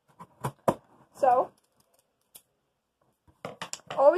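A few crisp scissor snips and cuts through packaging, close by, with short bursts of a person talking in between.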